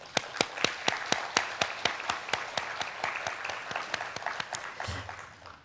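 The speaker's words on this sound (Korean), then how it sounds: "박수 한번 쳐줍시다." Rhythmic, evenly spaced handclaps from a group, crisp and close, a steady beat of about four claps per second fading into murmur at the end.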